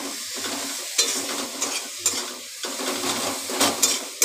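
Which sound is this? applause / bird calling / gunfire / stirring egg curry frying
stirring egg curry frying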